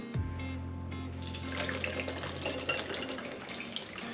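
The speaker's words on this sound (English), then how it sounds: "So we're gonna crack and do what we do best. Pour a can" Beer poured from a can, a splashing liquid stream filling a glass with a steady fizzing, bubbling wash that continues for several seconds, heard up close in a quiet room without talk.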